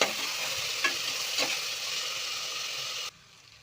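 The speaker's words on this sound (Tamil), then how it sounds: "நம்ம கழுவி வச்சுருக்கிற காய்கறியை எடுத்து சேர்த்துக்கலாம். நல்லா சேர்த்துருக்கோம். நல்லா கலரி விடலாம்." Washed vegetables for sambar rice sizzle loudly in an oily pan while being stirred, a steady close frying hiss with a couple of soft scrapes, cutting off abruptly near the end; no one speaks.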